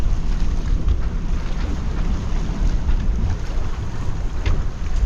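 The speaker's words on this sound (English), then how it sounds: "there's a bit of wind out there." Strong wind blowing at sea aboard a sailboat on an ocean passage from Samoa to Fiji, a loud, constant roaring rush with buffeting low rumble and faint water wash, no talking.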